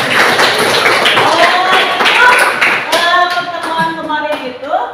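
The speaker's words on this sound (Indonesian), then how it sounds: "tepuk tangan untuk kita" Applause from a small group of teachers in a classroom session, sharp individual claps close by and loosely in rhythm, with voices rising over the clapping toward the end.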